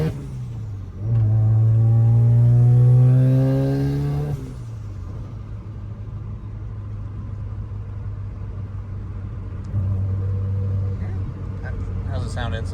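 A Mazda RX-7 with a newly fitted exhaust revs hard near the start, the pitch climbing steadily before dropping back to a steady idle, followed by another brief blip of the throttle.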